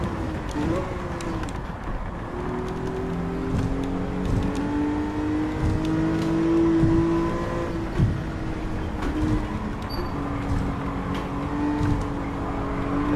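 A race car engine in the Gran Turismo 7 video game revs and accelerates through rising and falling gear pitches, with other cars nearby, while players talk over the sound.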